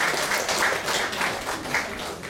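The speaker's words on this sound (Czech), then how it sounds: "zatleskejte mu" An audience at a concert in Panský dvůr Veselí claps for a music school teacher, a dense, steady round of applause that carries on evenly and close, with no talk over it.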